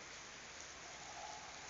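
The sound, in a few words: rain falling in cold windy weather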